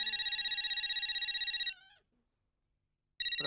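A phone ringtone for an incoming call trills in rapid, steady pulses, loud and close, cuts off into silence, then starts again abruptly.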